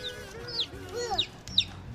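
Baby chicks peep with a few high, thin chirps close by, over soft rustling and background noise.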